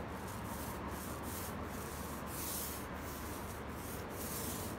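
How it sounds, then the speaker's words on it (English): Sandpaper rubs by hand across a fiberglass deck on a 1980 AMF Sunfish Viper sailboat. The strokes make a steady, rhythmic scratching at close range, with no voices. "come back and hit it again with just some hand sanding, some spot areas"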